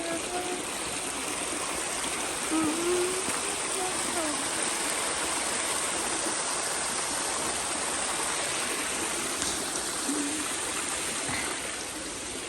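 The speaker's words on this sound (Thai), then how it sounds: "พอดีมันมีน้ำไหลทางนี้เนี่ย" A stream flows beside a countryside bed-and-breakfast in Germany, its continuous rushing and babbling steady and fairly close for the whole stretch.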